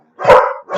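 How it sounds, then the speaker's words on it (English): Two sharp, loud dog barks close by, one right after the other, with nothing else around them. "No barking."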